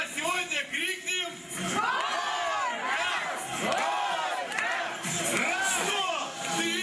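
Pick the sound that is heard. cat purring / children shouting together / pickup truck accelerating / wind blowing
children shouting together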